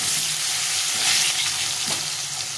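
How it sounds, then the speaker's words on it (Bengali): Potato pieces fry in a pan, giving a close, steady sizzling hiss that swells briefly midway and then settles, with no one speaking. "আলুটাকে একটু ভেজে নেব।"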